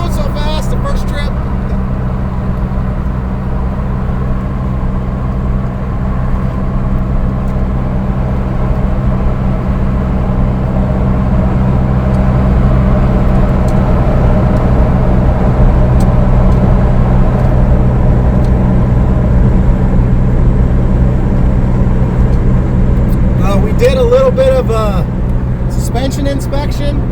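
A 1995 Dodge Stealth with a bad ball joint and tie rod drives at 60 mph, heard from inside as a steady, loud engine and road drone, with a voice faintly present.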